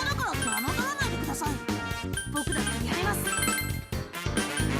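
A short chiming jingle plays for a failed persona fusion in the video game Persona Q2, bright tinkling tones layered over game music, with a voice talking over it.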